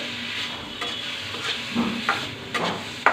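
Onions fry in a pan with cumin powder, a soft steady sizzle broken by occasional scraping stirs and light clinks, fairly faint and close, with no talking.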